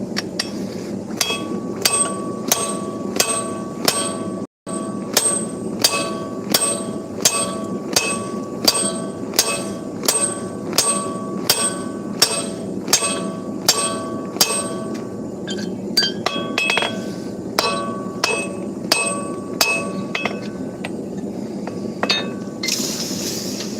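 Forged hammer heads being drifted at a blacksmith's forge on a snowy day: a long, steady series of sharp ringing hammer blows on hot steel, struck in an even rhythm, close and loud with a metallic clink to each strike.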